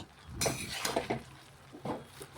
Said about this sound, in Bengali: আমি এবার খুরপি দিয়ে একটু নাড়িয়ে নিচ্ছি